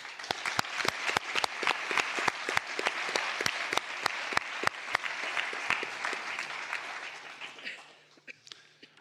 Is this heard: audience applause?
yes